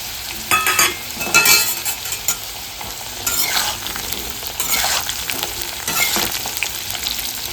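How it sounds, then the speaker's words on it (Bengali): Black cumin, a dried red chilli and a bay leaf hit hot oil for an elephant foot yam curry, raising sharp bursts of sizzle and spattering crackle that rise and fall near the microphone, with no voices. "এবার আমি ফোড়নে দিয়ে দেবো কালো জিরে, একটা শুকনো লঙ্কা, একটা তেজপাতা"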